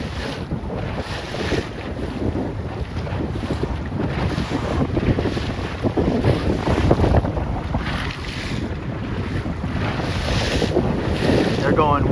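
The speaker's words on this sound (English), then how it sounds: "Plenty of wind." Strong wind roars and buffets the microphone throughout a C420 dinghy sailing regatta, mixed with rushing water and waves, loud and continuous.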